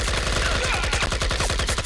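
Rapid automatic Uzi fire in the video game IGI, a fast loud stream of evenly spaced shots rattling continuously without pause.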